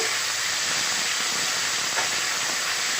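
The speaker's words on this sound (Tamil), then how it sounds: "ஆயில் சூடாயிருச்சு. இப்போ இஞ்சி பூண்டு சேர்த்துக்கலாம்." Ginger and garlic hit hot groundnut oil for a chicken gravy, producing a loud, continuous broadband hiss close to the pan that holds steady throughout with no talk.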